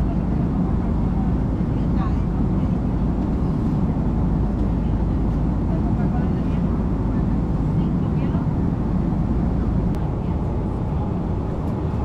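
Steady low roar of an airplane cabin in flight, a dense continuous rumble filling the space without a break, with speech faintly present underneath.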